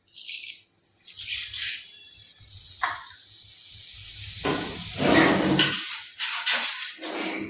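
Mustard seeds and cumin sizzling in a hot pan, a close, loud hiss that surges and fades in waves, with crackling spits and popping bursts as the seeds hit the oil.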